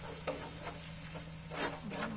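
Sticky rice for biko is stirred in a pan, soft scraping strokes recurring every half second or so over a low simmering sizzle, close and fairly quiet.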